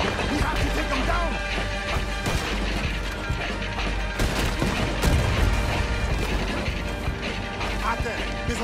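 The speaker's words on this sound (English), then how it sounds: "He's shooting. We have to take him down." Dense, chaotic bursts of gunfire and clanking impacts in the video game Red Dead Redemption 2, with voices shouting underneath throughout.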